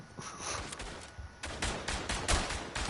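A Hotchkiss machine gun firing nearby to one side in the World War I game Verdun, bursts of rapid shots rolling over a busy battlefield with other gunfire around.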